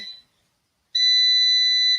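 A long, steady electronic beep from a kitchen appliance rings out loud and unbroken for about a second, following a brief earlier chirp and a moment of silence, while cooking dumplings.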